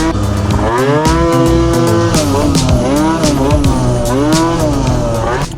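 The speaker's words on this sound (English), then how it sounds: "So I've just ridden up here, you heard the bike" A carburetted motorcycle engine, just ridden up and warm, revs loudly and close by, its pitch climbing and falling in repeated throttle blips with no talking.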